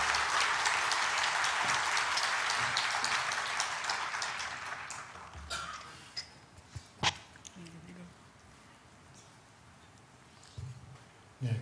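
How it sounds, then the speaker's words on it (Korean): A church congregation at Dongchun Church gives loud, sustained applause to welcome a guest elder lecturer, the clapping fading after about five seconds into a quieter room with scattered knocks and faint shuffling. "여러분 큰 박수로 환영해 주시면 고맙겠습니다"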